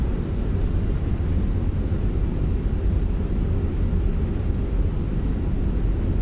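Fenix A319 jet engines roaring in reverse thrust on landing in Microsoft Flight Simulator, a steady loud low-pitched rumble that holds evenly throughout.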